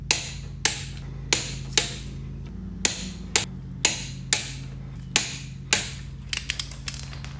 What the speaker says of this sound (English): you want to torque these in a star pattern